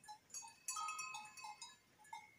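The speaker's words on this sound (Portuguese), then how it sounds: "Bode, cabra. Os cabritinhos." Goats and sheep, including billy goats and kids, in a farm pen on a windy smallholding in the Paraíba backcountry, with several short bleats rising at intervals amid light outdoor noise.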